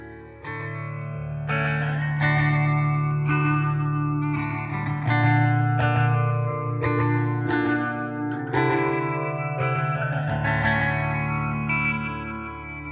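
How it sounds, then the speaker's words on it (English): Electric guitar through a vintage reverb pedal set for a slapback echo into a TONEX amp-modeling rig: picked notes and chords with short repeats and a wet tail, steady and up front, no one talking. "Then put this on, you get that a reverb sound,"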